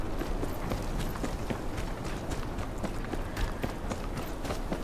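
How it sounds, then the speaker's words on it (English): A horse in the Game of Thrones video game galloping, its hooves drumming in a fast, steady clip-clop. The hoofbeats run continuously under a busy outdoor ambience. "That's my horsey, that's my horse."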